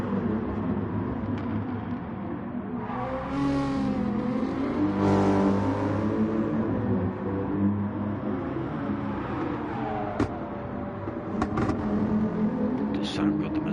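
Mercedes Gr3 race car engine in a racing video game, a steady loud revving drone with rising and falling pitch sweeps as it accelerates, running continuously under commentators talking throughout.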